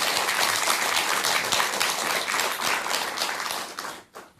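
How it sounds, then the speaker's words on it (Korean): Warm audience applause during a Buddhist TV broadcast honouring a Diamond Sutra recitation group member, with steady dense clapping that fades out at the end. "뜨거운 박수 한번 부탁드리겠습니다."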